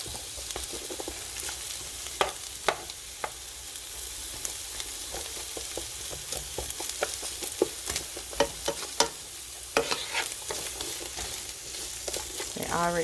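Sweet onion and fresh garlic sautéing in a pan, a steady close sizzle broken by sharp clinks and scrapes of stirring, with no talking.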